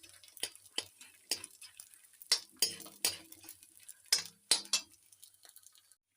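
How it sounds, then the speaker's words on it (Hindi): Edible gum is stirred and roasted in a kadhai, giving soft scraping strokes and clinks of a spoon against the metal over a faint sizzle, with no talk. "मैं इसे कंटिन्यू चलाती रहूँगी, इससे अलग करके ये अच्छे से भून जाए और इसकी खीर जैसी फूल जाए।"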